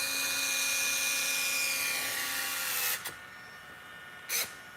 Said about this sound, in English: Let's get these screws back in first.